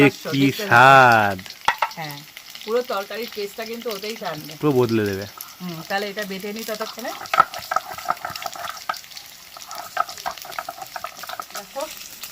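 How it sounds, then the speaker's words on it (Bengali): Potatoes fry in a pan for a cauliflower curry with prawn-head paste. Loud, close sizzling bubbles continue throughout with stirring noises, and a person talks over the early part. "আলুটা একদম লাল করে ভেজে নিয়েছি"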